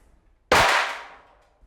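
Aftermarket Depot headlight glass on a BMW E46 325i Touring struck hard, one sharp loud clang that rings out and decays over about a second, with no talk.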